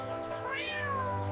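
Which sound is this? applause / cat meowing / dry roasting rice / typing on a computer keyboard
cat meowing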